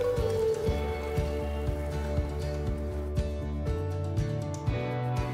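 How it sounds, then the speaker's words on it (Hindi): Kashmiri chili powder and crushed chili sizzling as they roast in hot oil for a mixed dal tadka, a steady dense crackle with sharp spits and pops throughout, close and fairly loud with no talk. "इसको मसालों को थोड़ा भून लेंगे"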